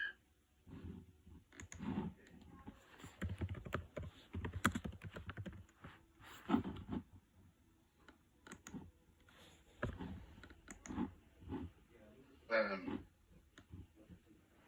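Quiet keyboard typing in uneven bursts and pauses, close by, with soft room noise and a faint throat sound near the end.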